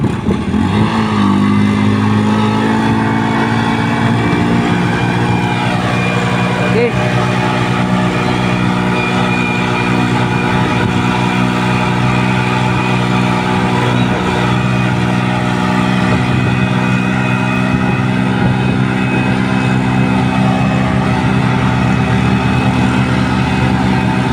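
Vehicle engines on a road lined with trees make a continuous, fairly loud droning hum that holds steady throughout, with no voices.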